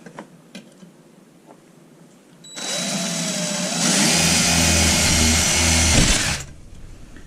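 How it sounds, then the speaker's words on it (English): A power drill bores 3/16-inch pilot holes for 1/4-inch leg screws while a fridge is secured in a school bus conversion, starting abruptly after quiet, running loud and steady for about four seconds with a rising pitch midway, then stopping. "pre-drill my holes right now"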